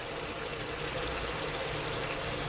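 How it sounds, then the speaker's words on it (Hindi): A cup of whisked yogurt is poured into minced meat keema cooking in a pan, a soft, continuous hissing stream that stays faint and even for a couple of seconds. "1 कप दही हमने फिटा हुआ डाल दिया।"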